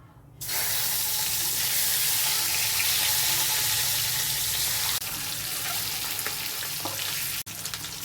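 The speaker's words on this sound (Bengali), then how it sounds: "এবার 1 চিমটি হলুদ দিয়ে আমি ডিমগুলো ভেজে তুলব" Eggs, scored on the surface and dusted with a pinch of turmeric, fry in hot oil in a kadai, giving a steady, close, uninterrupted sizzle with no voices.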